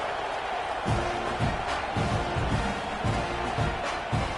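A stadium crowd in a college football video game, a constant loud roar of many voices with periodic thumping swells and cheers rising and falling under the continuous din.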